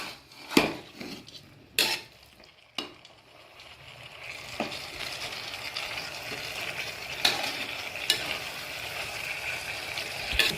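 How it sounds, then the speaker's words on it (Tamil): Spinach and coriander leaves sautéing in a pan for palak vegetable pulao, with a soft low sizzle and a few sharp clinks of a spoon against the pan early on, quiet and close, no voices. "கொத்தமல்லி தழையும் சேர்த்து இதோட வதக்கி கொஞ்ச நேரம் வதங்கட்டும்."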